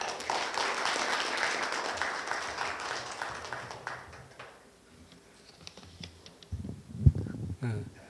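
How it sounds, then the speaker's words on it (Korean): Audience at a nuclear policy workshop applauds to welcome a speaker to the stage, the clapping fading out after about four seconds, followed by quiet shuffling and a few thumps near the microphone. "이은철 교수님을 큰 박수로 단상으로 모시겠습니다"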